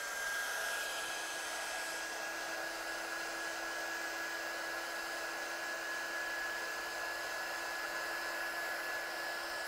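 A heat tool blows continuously to set paint on a card, a steady close whooshing roar with a constant whine that runs unbroken throughout.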